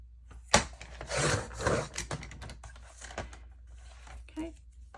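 Scrapbook paper being cut, a few close rough scraping strokes with a sharp snip at the start, then softer intermittent rustles and light taps.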